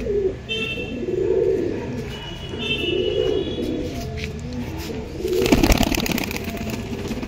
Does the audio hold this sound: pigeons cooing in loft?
yes